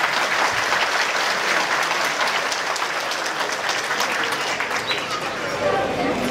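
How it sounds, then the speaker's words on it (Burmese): Guests at a wedding reception applaud, a steady wash of dense clapping from a sizeable crowd that holds at an even level for over six seconds. "ဂုဏ်ပြုလက်ခုပ်ဩဘာသများနဲ့အကျဉ်းဆုံးချီးမြှင့်ပေးပါဦးခင်ဗျာ"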